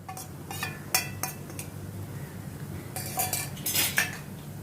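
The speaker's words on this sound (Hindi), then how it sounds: "इसको भी अभी मैं प्याज के साथ सौते करती हूँ।" Ground masala being sautéed with browned onions in a pan, heard as a spoon scraping and clinking against the metal pan in short bursts, near and moderately quiet, with no talking.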